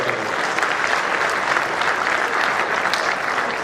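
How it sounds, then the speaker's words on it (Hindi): Loud, sustained audience applause at a martyrs' day ceremony honouring brave women, a dense steady wash of many hands clapping throughout, with no pause. "एक बार जोरदार तालियां सुनिए"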